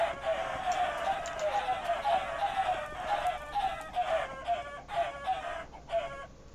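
Many chickens cluck in the Minecraft video game, a dense overlapping chorus of short repeated clucks, close and steady throughout.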